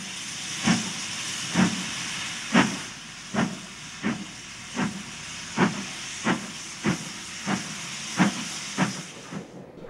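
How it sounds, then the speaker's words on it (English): A steam locomotive chuffs slowly and evenly as it backs down onto a train, about a dozen sharp exhaust beats over a steady hiss of steam, fairly close. "an East Anglian locomotive, backs down onto a train for the Settle line."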